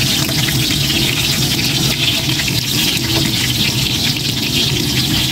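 Garlic sizzling in hot oil left over from frying fish, a steady dense crackle that runs evenly and loud throughout with no talk over it.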